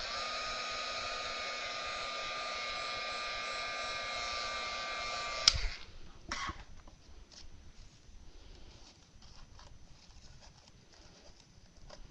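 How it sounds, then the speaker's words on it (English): A heat gun blows steadily and loudly on craft material, then cuts off abruptly about halfway through, leaving quiet handling noises and light rustles. "Just take your heat gun and heat it up again."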